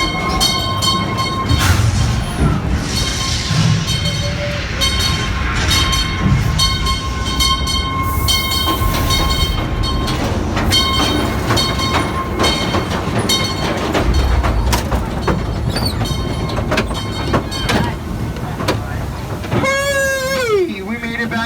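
Calico Mine Ride ore car train at Knott's Berry Farm rumbling and clattering along its track, loud and close from the front seat, with a horn-like tone sweeping near the end and voices talking over the ride noise.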